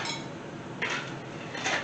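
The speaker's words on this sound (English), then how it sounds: "Get my little scraper. Scrape across the top of it here." A small plastic scraper drawn across the top of a bowl, two short raspy scrapes about a second apart over a quiet background.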